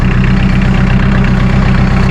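A Bobcat CT440B compact track loader's diesel engine idling close by, a loud, steady low rumble with an even throb and no talk.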